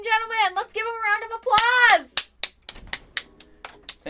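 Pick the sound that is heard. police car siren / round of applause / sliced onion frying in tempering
round of applause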